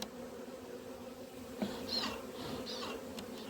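Honey bees hum in a steady, close drone during a hive inspection and split as frames crowded with bees are lifted, a few brief louder buzzes passing near, with no voices.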